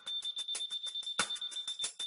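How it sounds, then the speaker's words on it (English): The detector of a Leica Lino L2 laser level gives a steady, high-pitched electronic beep. Fast, regular pulsing ticks run through it, quiet and alone. "a beep sounds when you find the correct level"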